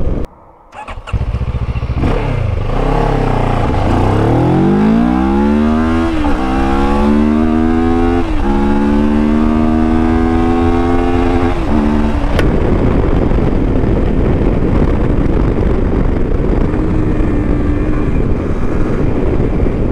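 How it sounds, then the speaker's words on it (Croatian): A CFMoto 700MT adventure motorcycle (2024) revs hard through several rising gear pulls during a 0–100 run, each climb cut by a quick shift, then settles into a steady rushing drone of engine and wind, loud and close with no talk. "Sad ćemo probati 0 do 100 i ubrzanje ovog motocikla."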